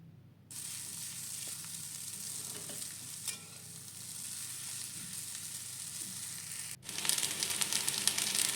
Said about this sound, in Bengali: বেশ ভালো করে পেঁয়াজ ফ্রাইয়ের সাথে চাউমিন সেদ্ধটা আমার মিক্সড করে নিতে হবে